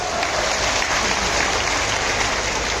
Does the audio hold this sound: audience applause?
yes